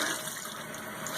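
Tap water running steadily into a sink to wet a makeup sponge, a soft, continuous hiss of flowing water heard close and alone.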